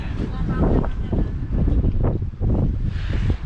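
Gusty wind buffets the microphone in low rumbling bursts beside the River Trent while bicycle touring, with a voice talking over it throughout.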